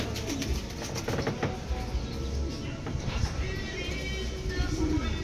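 Black velvet racing pigeons arriving at a loft during derby race training give soft repeated coos among light flutters and background rustle, with a person speaking intermittently.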